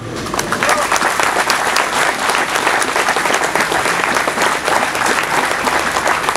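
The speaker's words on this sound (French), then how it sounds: "vous pouvez vraiment les applaudir, vraiment leur faire une ovation" An audience at a French enduro championship event in Villebret gives a long ovation to the club volunteers, with dense, steady clapping that stays loud and even throughout and has no voices on top.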